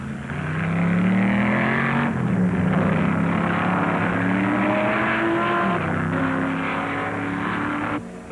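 Ferrari race cars at the 1964 Sebring 12 Hours, including the Hill-Bonnier 4-liter, roar loudly and continuously past, their engine notes rising and falling in pitch as they rush by with no voices.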